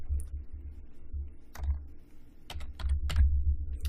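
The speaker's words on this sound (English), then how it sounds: "I'm going to just type in audit." Keys on a computer keyboard are typed in a short burst of quiet, irregular clicks, close and alone with a low background hum.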